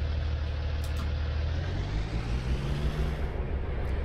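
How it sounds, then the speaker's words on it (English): An old Kenworth semi truck engine idles in a driving game, a steady low diesel rumble with a faint rising tone partway through, running continuously and alone. "Old Kenworth started."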